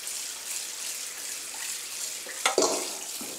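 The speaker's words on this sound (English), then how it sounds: "And then just rinse it up with cold water" A kitchen tap runs cold water over freshly strained pasta in a strainer, a steady close splashing rush with a louder burst of spatter near the end, no voices.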